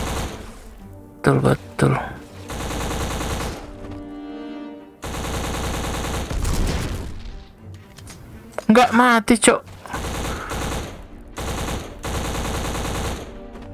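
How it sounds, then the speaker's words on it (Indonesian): Gunfire from the video game BLACK comes as rapid automatic bursts and single heavy shots, loud and crisp, separated by short gaps, with someone talking over parts of the action. "Renyah banget suara senjatanya, cuy"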